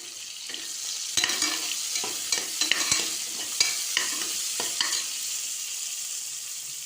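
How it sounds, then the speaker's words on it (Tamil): Chopped onion and tomato sizzle steadily in a hot pan while a spoon scrapes and stirs through them, giving intermittent clicks and scrapes over a continuous hiss, with no talking. "நல்லா வெங்காய தக்காளி வதங்கினோடனையும்"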